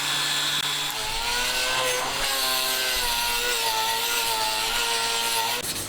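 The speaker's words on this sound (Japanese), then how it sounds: "最後の仕上げはスコッチブライトつけた研磨機で軽く全体を磨い" A polishing machine fitted with a Scotch-Brite pad buffs parts of a Honda Monkey engine being built as a 124.4cc four-cylinder, giving a loud, steady motor whine with shifting harmonic tones as the pad presses and eases, running continuously alone.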